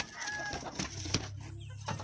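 Three-month-old Rhode Island Red chickens, both roosters and hens, cluck and call in a short burst of overlapping bird sounds at a farm, fairly close and moderately loud.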